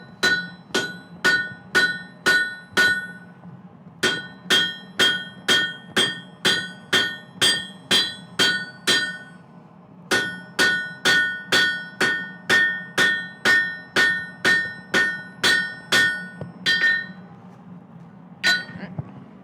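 A 2-pound hammer strikes metal in a workshop, landing loud, close, ringing blows at a steady quick rhythm in several long runs with brief pauses between them and no talking.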